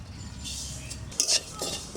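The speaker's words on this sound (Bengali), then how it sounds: "পোস্তটা আমি একটু হালকা করে ভেজে নেব, তাহলে স্বাদ হবে ভালো" Poppy seeds being lightly dry-roasted in a pan and stirred with a metal spoon, producing soft scraping and light rattling with a couple of sharper clinks, close by and without speech.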